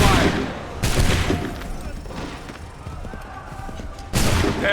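Musket volleys fired on command in Assassin's Creed III, with sharp crashing salvos at the start and again near the end, separated by a rumbling battlefield din.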